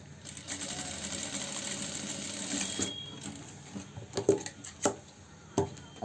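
A sewing machine stitches a double-colored shirt collar in quick bursts: a steady run for about three seconds, then several short, sharp spurts and stops, close and clear with no talking.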